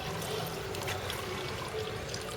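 Liquid coolant steadily pours and trickles out of a motorcycle's cooling system while the radiator is flushed, a continuous close splashing stream with no talk.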